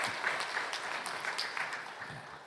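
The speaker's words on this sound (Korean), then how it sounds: "우리 박수로 환영하겠습니다." A church congregation applauds during a Sunday worship service, steady sustained clapping from many hands filling the room at moderate volume for a couple of seconds without speech.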